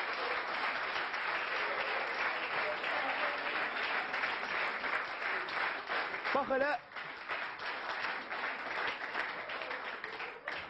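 Steady, dense audience applause runs throughout, likely from a studio crowd, with a brief spoken interjection partway through.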